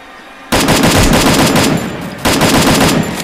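Automatic gunfire in a solo-versus-duo rush shooter game: two loud, sustained rapid-fire bursts heard close up, with a brief gap between them and no talk over them.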